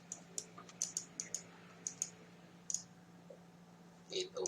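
A computer mouse clicks close and quiet, a string of sharp, light clicks in small irregular clusters, with a faint steady hum beneath and a brief rustle at the end.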